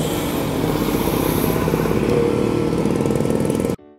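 A motorcycle engine idles and runs steadily close by, loud and continuous with a buzzy low drone, then cuts off abruptly near the end.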